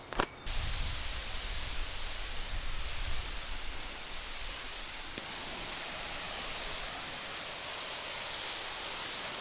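Water rinsing down Indian sandstone crazy paving, a steady broad hiss of spraying water after a brief knock at the start, continuous and moderately loud with no voices.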